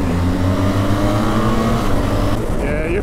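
A BMW R1300 GS and an R1250 GS accelerate hard from a rolling start, a loud close engine drone with rising harmonics and constant wind rush, easing slightly near the end.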